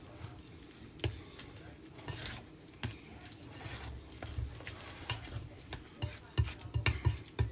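A spoon stirs and scrapes through a Mexican casserole mixture with a taco flavor in a bowl, giving soft irregular scraping, patting and clinking strokes that get busier toward the end, close and fairly quiet.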